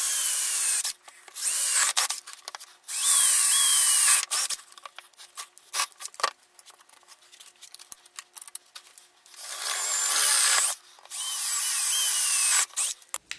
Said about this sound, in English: we'll flip this over and drill those holes